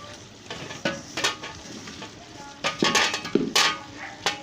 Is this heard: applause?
no